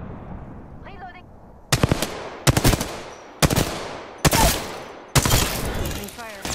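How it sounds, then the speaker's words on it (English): Several loud bursts of automatic gunfire come one after another in the Apex Legends video game, with short gaps between the volleys and a faint game voice just before the first burst. "Opening fire. Getting shot at."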